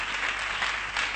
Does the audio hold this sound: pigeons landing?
no